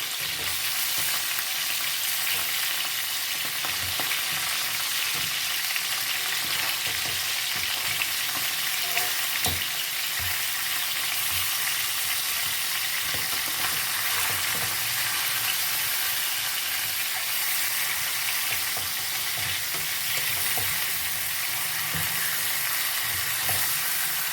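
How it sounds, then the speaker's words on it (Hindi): Chicken drumsticks fry steadily in hot oil for a bakery-style snack, giving a dense, continuous sizzle with occasional spattering pops and faint stirring. The sound stays close and evenly loud throughout, with no voices. "चार से 5 मिनट इसको हमने अच्छे से फ्राई कर लेना है।"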